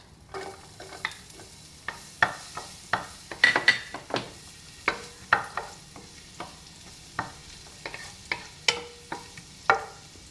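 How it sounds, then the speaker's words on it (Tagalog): Half an onion frying in butter in a pan, a quiet background sizzle punctuated by a steady series of sharp scraping and tapping strokes from a utensil stirring against the pan, close and distinct. "Hulog ko na yung kalahati ng sibuyas."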